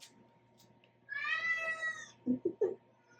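A hungry cat wanting a late breakfast lets out one drawn-out meow indoors, followed by a few short, lower chirping mews, fairly close against a quiet room.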